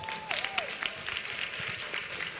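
Audience applause at a women's health expo, a steady wash of clapping that holds for a couple of seconds, fairly distant and moderate in level, with a sliding tone passing over it.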